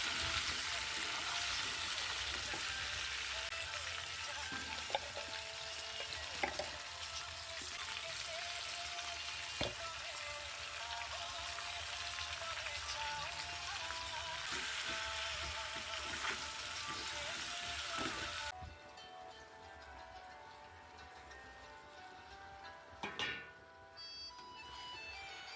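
Cabbage frying in a home kitchen pan, a steady broadband sizzle running loud and continuous, then dropping quieter toward the end with a few clanks.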